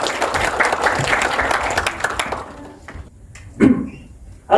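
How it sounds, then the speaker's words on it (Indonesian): A university audience applauds loudly for a couple of seconds, then the clapping fades out, leaving a few scattered claps and brief voices. "Boleh kasih tepuk tangan yang meriah buat Mas Aga teman-teman."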